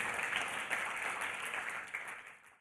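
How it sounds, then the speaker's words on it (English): Sustained audience applause for the four finalists at the FedEx Small Business Grant Contest event, a dense, steady wash of many hands clapping that fades slightly toward the end, with no talking over it. "Please give them one more round of applause."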